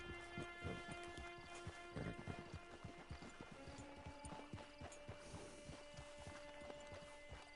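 Steady hoof clip-clop of a horse walking in Red Dead Redemption 2 Online, with mechanical clicking and faint ambient background throughout.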